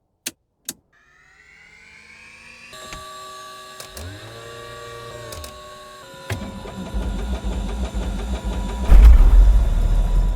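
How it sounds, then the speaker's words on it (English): In Microsoft Flight Simulator, a general aviation aircraft: two sharp clicks, then a starter motor whines and winds up, followed by the engine catching and settling into a loud, steady rumble. "The subtle pop of a cold magneto firing, the strain of a starter motor"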